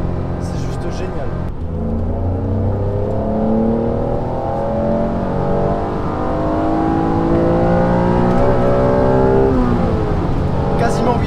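A 1995 Honda NSX engine revs up steadily toward about 8000 rpm, a loud, close, rising engine note that climbs through the clip with someone talking over it.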